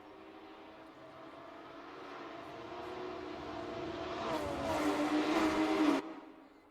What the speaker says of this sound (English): I hear car engines revving